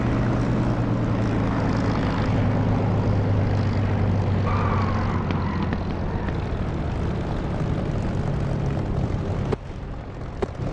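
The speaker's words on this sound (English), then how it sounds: "For landing it also helps to add some drag to allow you to slow down. Hear that increase in sound?" A Spitfire in the DCS flight simulator comes in to land with drag added, its propeller engine droning loud and steady beneath a rushing wash of airflow, then dropping abruptly near the end.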